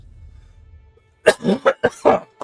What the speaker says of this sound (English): Big coughs